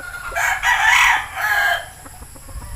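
A yellow-legged hatch broodstag rooster crows one long, loud, close call lasting under two seconds, followed by quieter background noise.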